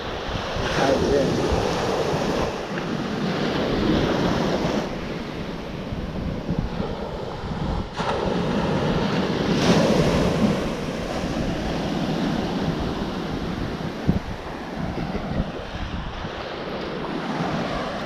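Ocean waves and wind roll steadily at Camp Ellis near Old Orchard Beach at high tide, a loud continuous surf wash with gusty wind buffeting the microphone throughout.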